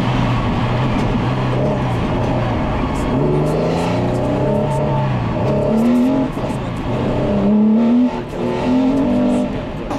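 Rallycross race cars at a circuit in Mayenne roar continuously at close range, engines revving up and down with rising and falling pitch as they accelerate along the track, loud and steady throughout.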